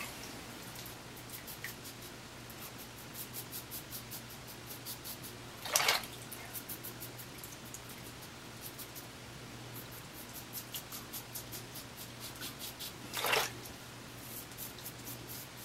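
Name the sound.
razor shaving, second pass across the grain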